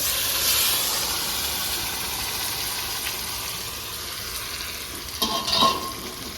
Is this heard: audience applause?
no